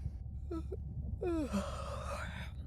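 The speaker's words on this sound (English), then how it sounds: "Was that a yawn?" A character in the underwater video game Beyond Blue gives a short, breathy voiced yawn, rising and then falling in pitch over about a second, heard quietly against a low ambient hum.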